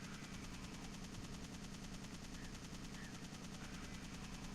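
Automatic assault rifle fire from Resident Evil 3 rattles on without a break, a fast, even, loud stream of shots with no voices over it.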